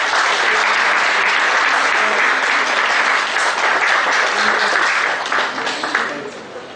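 An audience at a professional gathering in Bangalore gives a full round of applause during a presentation, loud, dense and sustained before tapering off near the end.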